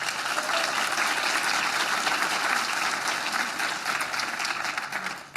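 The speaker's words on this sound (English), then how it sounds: "Let's give them all a round of applause." A room full of people applauds at a legislative breakfast on mental health, a dense, even wash of clapping that holds steady for several seconds before tapering slightly at the end.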